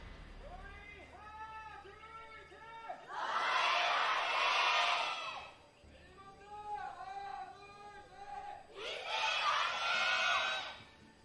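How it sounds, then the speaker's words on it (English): Crowd chanting at an Overwatch World Cup 2019 esports arena match, in two loud roaring bursts that alternate with rhythmic, sung chant phrases, filling the hall. "The chants are just louder than ever before"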